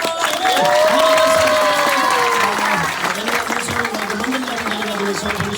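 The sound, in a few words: audience applause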